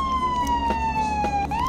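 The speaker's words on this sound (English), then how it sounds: "Working sirens, working lights," A fire truck siren from the Roblox game Firefighter Tycoon wails steadily, its tone gliding slowly downward and then sweeping back up, loud and close with no talk over it.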